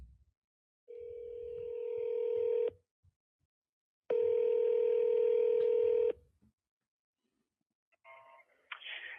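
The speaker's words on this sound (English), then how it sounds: "let me go ahead and give it a quick ring" A telephone call to a business number: two long, evenly spaced ringing tones separated by a pause, followed by the brief start of an answering voice.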